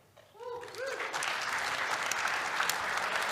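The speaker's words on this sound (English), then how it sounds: "Please give him a warm welcome." Conference audience breaks into applause to welcome a speaker, swelling quickly from a few scattered claps into a steady, full burst of clapping that continues evenly, with brief voices over the start.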